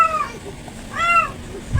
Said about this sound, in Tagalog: maingay yung alaga kong pusa. Gusto yatang lumabas.